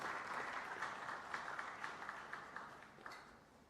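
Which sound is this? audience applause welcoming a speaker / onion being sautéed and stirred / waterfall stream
audience applause welcoming a speaker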